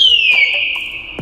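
A high-tech reserved parking barrier alarm in Dubai gives a short, loud, high electronic tone that slides slightly downward and holds for about a second.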